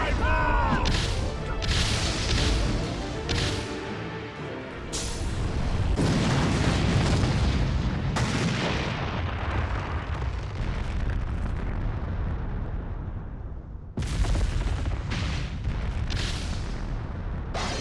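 Loud explosive blasts and booming impacts from the Butterfly Bomb attack in Naruto Ultimate Ninja Storm 3, a sustained roaring eruption broken by several sharp bursts and cutoffs, with no talking.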